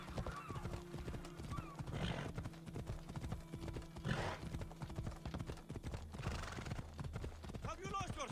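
A horse gallops at a steady rhythmic clip-clop in Assassin's Creed Odyssey, with whinnies and snorts over continuous hoofbeats and light ambient background.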